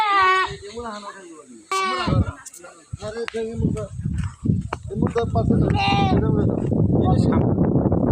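Goat bleating close by, several wavering calls at the start and again midway, with people talking loudly over and between them amid the shuffle and thumps of an outdoor livestock scene.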